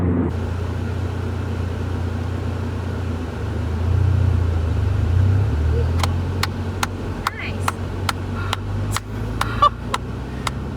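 A Toyota GR86 pulls away in first gear, its low engine drone swelling briefly then settling into a steady hum heard from inside the car, with a string of sharp regular ticks and knocks toward the end.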